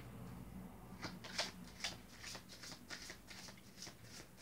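A deck of tarot cards is shuffled in a quiet room, a faint series of soft riffling flicks and papery taps at an even pace, close but low in level, with no talk.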